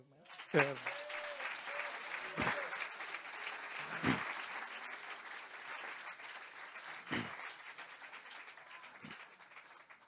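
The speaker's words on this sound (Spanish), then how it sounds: "Él merece un aplauso." A church congregation applauds steadily for several seconds, a broad wash of clapping with a few louder bursts and a voice or two rising briefly over it.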